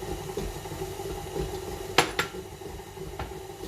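Eggs going into cake batter for a pear, ginger and caramel upside-down cake, with a sharp clink of shell or utensil against the bowl followed by softer scraping and stirring.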